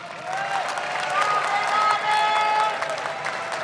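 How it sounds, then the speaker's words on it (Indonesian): Audience applause at a gubernatorial candidate debate, clapping rising and swelling in the middle with a few scattered cheers, heard under and around tonal sounds and faint voices from the hall. "Waktunya memberikan tepuk tangan untuk seluruh pasangan calon, silakan."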